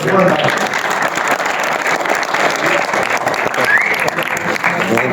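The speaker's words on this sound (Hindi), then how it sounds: "एक बार फिर तालियां" Dense, loud applause from an audience at an Urdu poetry mushaira at Alhamra Art Center in Lahore, steady clapping throughout with crowd murmur and some voices mixed in.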